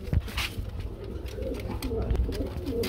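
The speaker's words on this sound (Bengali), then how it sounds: "এটা ইন্ডিয়ান লুটন ভাই। ইন্ডিয়ান লুটন কবুতর।" Indian Lotan pigeons at a pigeon market coo with low, throaty repeated calls under steady background chatter from people nearby, with a few distinct coos standing out across the clip.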